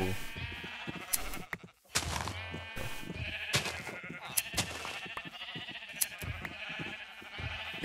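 Sheep in the Minecraft video game bleat repeatedly over a busy mix of game sounds and background music, the calls coming in short bursts through the clip.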